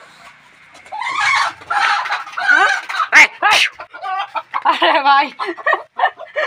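Chickens cluck loudly and close by in a series of squawking calls, with a voice speaking among them.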